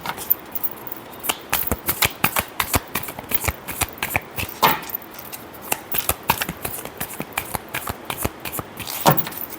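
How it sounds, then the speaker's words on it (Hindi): Tarot cards are shuffled close up in a steady series of quick papery flicks and slaps with brief pauses between bursts, and no one speaks. "Last shuffle."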